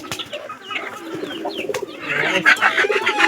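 Several pigeons coo and murmur close by in a loft where new birds are settling in and pairing, with overlapping throaty calls that grow busier and louder toward the end.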